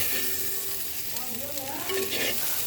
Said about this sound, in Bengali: এইবার সব কিছু সুন্দর করে কষাবো